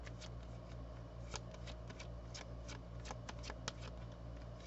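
Tarot cards being shuffled and drawn, a soft close-up run of quick flicks and riffles with irregular sharp snaps over a low steady hum, no speech.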